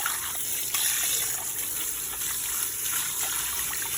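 Water gushing and splashing steadily at a salon shampoo bowl as hair is rinsed after a colour correction, a continuous close wash with small splashes and no talking.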